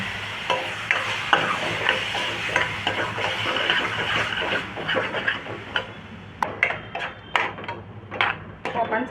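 Tomato and cashew paste is stir-fried for a Marathi mixed vegetable dish, with a steady sizzle under repeated scraping and clacking of a spoon against the pan that grows sharper and more spaced toward the end.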